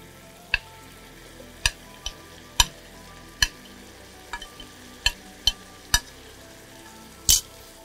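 Fried potatoes being stirred into a pan of Bengali radish greens with prawns and poppy seed paste, giving sharp spatula knocks and scrapes at uneven intervals over a faint sizzle, close and alone.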